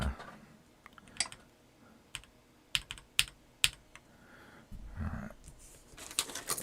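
Keystrokes on a CIY GAS67 mechanical keyboard come in scattered bursts and single sharp clicks, close and fairly quiet, with brief pauses between them and no talking.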